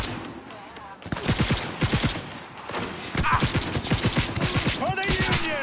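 Rapid bursts of automatic gunfire from a Cyberpunk 2077 firefight, loud and close, repeating in volleys with short gaps, while shouted voices break in now and then.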